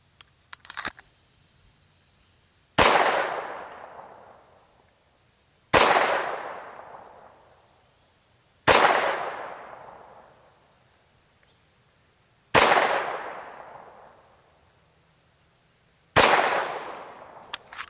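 A SAR 2000 pistol fires 115 grain Federal ammunition at a range, six sharp, loud shots spaced a few seconds apart, each followed by a long decaying echo, with no speech.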